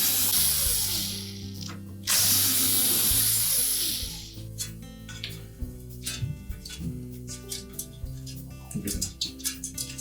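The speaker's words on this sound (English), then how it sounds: "So we'll begin by removing these screws that secure the bracket to the main top." Screws being removed from the mounting bracket on the main top of a Samsung range, heard as a run of close ratcheting, clicking mechanical sounds with brief louder whirring bursts and no talk.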